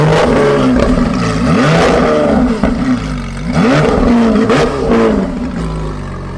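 Lamborghini Sian FKP 37 engine in sports mode, a loud, close roar that climbs and falls through repeated revs and shifts, with a brief dip partway through, no talking.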